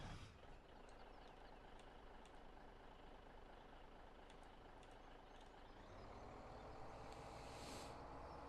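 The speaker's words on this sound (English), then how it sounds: "Oh yeah, I need to get my wood chip truck over here." A wood chip truck reverses in the video game Farming Simulator 17 with a steady low engine drone and repeated short reversing beeps, rising slightly in power toward the end and quiet overall.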